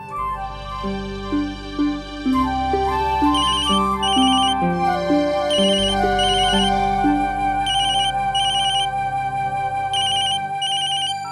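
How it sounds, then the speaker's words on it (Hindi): A phone rings with a loud melodic electronic ringtone that repeats its tune steadily, with no voices. "एक मिनट जरा, एक फोन आया है।"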